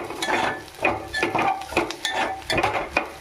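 Spoon stirring ivy gourd fry with chili powder in a pan, giving a steady rhythm of scraping and clinking strokes over a faint sizzle, with no talking.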